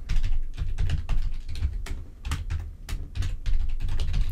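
A computer keyboard clacks with quick irregular keystrokes while an administrator password is typed during a Windows Server 2022 setup, close and clear, with no talking.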